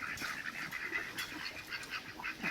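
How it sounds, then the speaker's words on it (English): Thirteen ducks at a mountain garden quack softly in a steady cluster, faint and somewhat distant, heard alone without talk. "They have 13 ducks."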